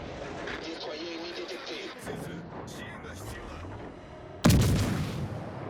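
Naval gunfire in a warship video game: a steady rumbling battle bed with scattered booms, then a sudden loud blast near the end, all under ongoing speech.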